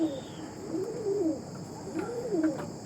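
Pigeons of Andhra, Arshad and Chennai breeds cooing close by, with two soft rolling coo phrases over a faint background hum, no talking.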